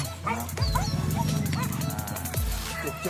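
Hunting dogs barking during a tap-tap hunt in Ampang Kualo, Solo, several yelps and barks overlapping in a busy outdoor scene, with voices talking nearby throughout.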